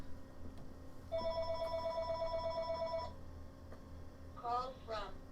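A telephone rings with a fast, even electronic trill for about two seconds, then goes quiet; a short burst of voice follows near the end.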